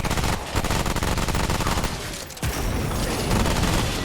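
A fire damage nuke build detonating in the Remnant 2 video game, producing a dense continuous barrage of crackling blasts and rapid booming hits, loud and sustained with a short dip midway.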